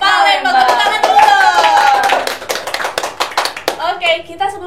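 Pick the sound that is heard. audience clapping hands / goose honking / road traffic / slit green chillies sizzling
audience clapping hands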